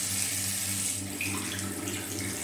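Steady stream of water running from a bathroom tap into a sink during face washing, a constant close rushing hiss with no talk over it.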